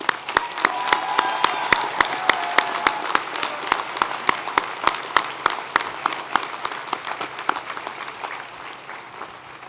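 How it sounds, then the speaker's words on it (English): A commencement audience at Waukesha County Technical College's December 2021 ceremony applauds the School of Business graduates, giving close, steady clapping for about ten seconds that slowly thins out, with no talking. "Let's give the School of Business graduates a round of applause"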